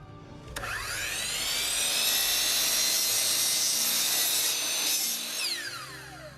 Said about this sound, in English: I'm going to miter the edges of the braces